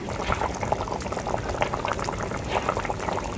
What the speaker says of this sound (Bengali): এমনিতেই ঝোলটাকে ফুটিয়ে নেব খুব ভালো করে